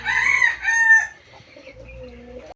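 A black Bahama rooster crows close by, a bright, drawn-out call that trails into softer, lower clucks, heard alone without talk.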